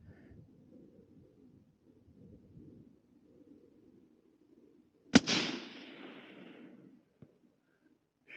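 A suppressed Remington 700 rifle in .223 fires a single sharp shot, loud and close, with a short rumbling tail fading over a second or two against faint outdoor background murmur.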